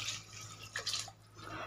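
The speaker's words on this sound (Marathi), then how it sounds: "व्यवस्थित पाणी ॲड करायचं." Water is poured into rice for a vegetable pulao. It comes out as a few soft splashes and a trickle, faint and close, with gaps between the pours.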